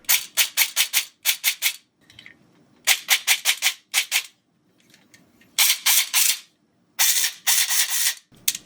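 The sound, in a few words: airsoft gun with spiral gear gearbox test firing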